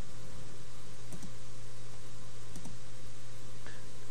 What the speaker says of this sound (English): click the File tab and then click Save As